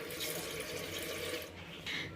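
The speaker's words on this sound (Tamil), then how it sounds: "நாலரை கிளாஸ் தண்ணி ஊற்றிக்கலாம்" Water poured into a pot of rice and lentils for sambar rice, a steady close splashing, filling stream that runs continuously and briefly changes tone near the end.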